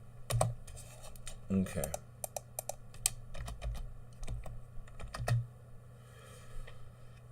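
Someone types on a computer keyboard in irregular bursts of clicking keystrokes, close and fairly quiet, over a low steady hum, with a person briefly speaking.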